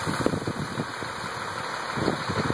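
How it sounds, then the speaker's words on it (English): A diesel delivery truck idles at the curb outside a house, its engine giving a steady, loud rumble with irregular low knocking pulses throughout, with no voices over it. "this truck is idling right outside my house"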